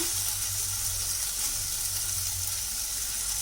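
Mushrooms sizzle and fry in a kadai with a constant, even crackling hiss, close by and without talk.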